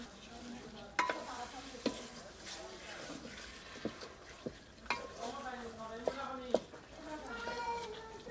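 Meat with crushed bone and potatoes being stirred and sautéed in a pan for a curry, with repeated scraping and clinking of the spoon against the pot over a low sizzle while someone talks intermittently.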